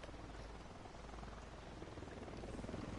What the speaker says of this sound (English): I hear a chopper coming.